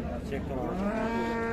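A Friesian cow with her bull calf at a cattle market lets out a single drawn-out moo, fairly close and clear, with a low rumble of background noise.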